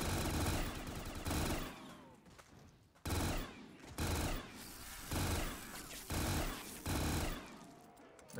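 Automatic gunfire in Black Ops 3 Zombies, repeated loud bursts of rapid shots separated by short pauses, close and dominant.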